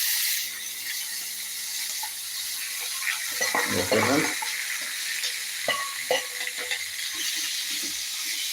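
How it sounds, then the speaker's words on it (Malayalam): Green gram is tipped into a pan and fries, a steady hiss of sizzling with a louder rustling, clattering burst as the lentils go in, followed by lighter stirring taps. "നമ്മൾ ചെറുപയർ കൂടെ ഇട്ട് കൊടുത്തിട്ടുണ്ട്"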